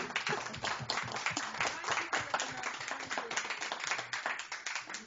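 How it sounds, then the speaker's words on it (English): An audience applauds visiting guests at the close of a web TV show, a dense, steady round of clapping that carries on throughout with faint voices mixed underneath. "we're going to give you a big round of applause"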